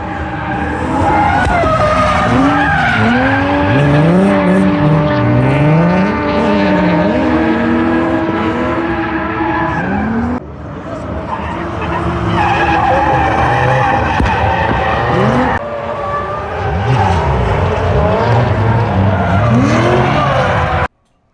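A car drifting at a drift event, its tires squealing loudly and continuously while the engine revs rise and fall, close and dominant for the whole stretch with short breaks.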